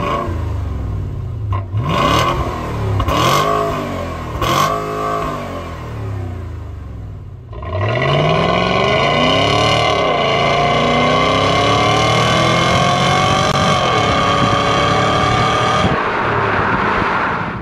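A 2007 Volvo S80 with a 4.4 V8 and resonator delete revs in several sharp blips, then holds a long loud rising roar that swells and falls back toward idle.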